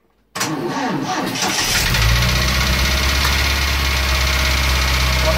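Engine of a 1982 Triumph TR7 with a noise issue cranks and fires up sharply, then runs on at a steady, loud idle with a rough mechanical clatter, close by with the front timing cover removed.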